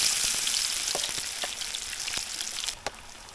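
Ginger frying in cooking oil for a sautéed fish dish, a steady close sizzle with crackling pops throughout, fading slightly near the end after a brief bump, no talk.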